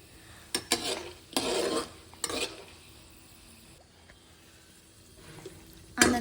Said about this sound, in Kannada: ಪ್ಯಾನಿಗೆ ಸ್ವಲ್ಪ ಎಣ್ಣೆ ಹಾಕಿ ಈ ಕಡಲೆ ಬೀಜನ ಸ್ವಲ್ಪ ಫ್ರೈ ಮಾಡ್ಕೊಳ್ಳೋಣ